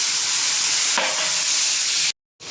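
Chopped coriander and mint are stirred into a sizzling Chennai-style beef biryani masala. Loud, steady frying hiss carries a brief scraping stir partway through, then cuts to silence before resuming.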